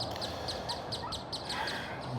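Outdoor bird calls repeat in a steady series of short chirps over a constant background hiss, with no talk.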